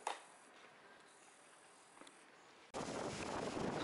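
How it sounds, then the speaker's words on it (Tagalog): Strong wind blowing outdoors, a steady faint rush that suddenly jumps to a loud, roaring gust buffeting close by near the end. "Kaya malakas yung hangin."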